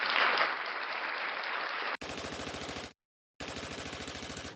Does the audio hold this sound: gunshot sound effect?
yes